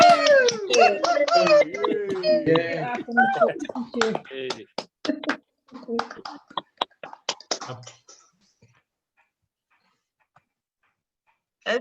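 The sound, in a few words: online audience clapping and cheering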